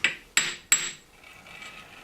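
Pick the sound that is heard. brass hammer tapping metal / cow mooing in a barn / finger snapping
brass hammer tapping metal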